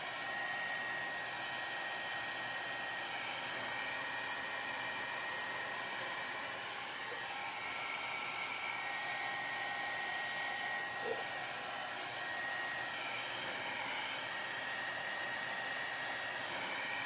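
A hair dryer runs steadily and close by throughout, blowing hot air to dry thick coats of paint on a Dollar Tree Halloween sign, its whine constant with only slight wavering.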